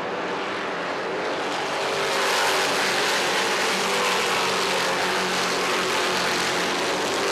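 Race cars come off turn four at Thompson Speedway during the American Canadian Tour 75, a loud continuous engine roar that swells slightly as the pack passes, heard alone without commentary.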